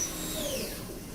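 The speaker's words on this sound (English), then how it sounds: "Good old mini mill." A small benchtop mini mill drills a pilot hole in metal, giving a faint, continuous motor whine with thin, sliding tones over a low machine hum.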